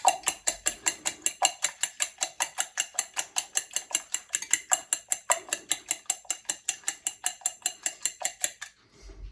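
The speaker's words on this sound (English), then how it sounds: "this is the egg white. As we say, we don't want to beat it too much, we just want it to mix up" Egg white being lightly beaten in a bowl with a fork or whisk for icing homemade Christmas cakes, a fast, steady run of close clinking strokes against the bowl that stops abruptly near the end.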